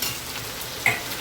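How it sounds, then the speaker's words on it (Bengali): Onions tossed into frying potatoes sizzle in a pan, with a quick stir and one sharp spatter near the end of a short burst. No one speaks. "পেঁয়াজ কটা দিয়ে দিই আলুর মধ্যে, ভেজে নিই ভালো করে।"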